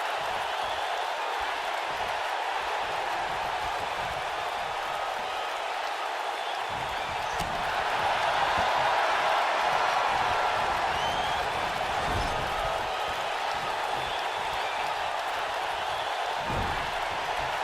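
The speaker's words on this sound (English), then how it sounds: "the crowd is loving Sasha's act" The arena crowd in WWE 2K19 keeps up a dense, steady roar of cheering through a women's tag team match. The noise swells midway, and faint thumps from the ring sound beneath it.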